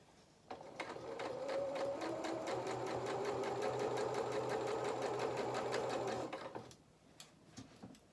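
A sewing machine stitches the body of a toy donkey, its needle running in a fast, steady rhythm for about six seconds, close and fairly loud, then stopping.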